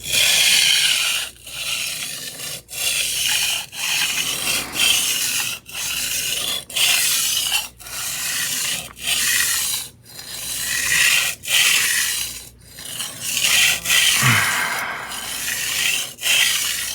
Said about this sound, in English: you can sharpen the knife in sections.